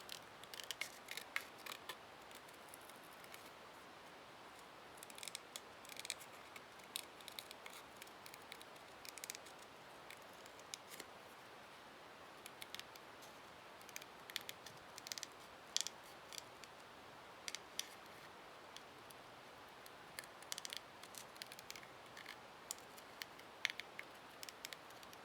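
Scissors fussy cutting paper around a stamped sentiment, a long run of quiet, irregular snips and crisp clicks, close up and faint against a still background.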